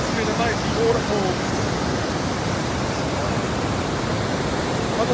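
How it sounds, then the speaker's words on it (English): Mighty waterfall roaring beside a river on a walk near San Gerardo de Dota, Costa Rica: a steady, dense broadband rush that fills the whole clip without letup, close and loud. "What's that noise? Oh, it must be the mighty waterfall."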